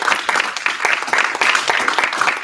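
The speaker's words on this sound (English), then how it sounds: "so please give a round of applause for that." Dense audience applause fills a conference hall, a steady loud wash of many hands clapping together for the whole stretch, with no voices standing out.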